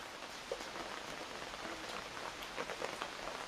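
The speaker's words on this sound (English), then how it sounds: "And this is round number 3 of the rain coming." Steady rain falls outdoors at dusk, a soft, even patter of drops with no voices, faint and continuous throughout.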